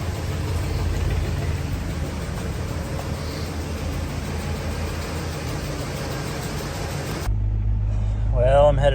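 A truck's 5.3 V8 engine idles with a low, steady rumble continuously, then a voice speaks briefly near the end over the same drone.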